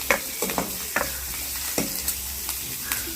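Curry leaves and onions sauté in a pan, a loud, close sizzle with several scraping stirs of a spoon at irregular intervals and no speech.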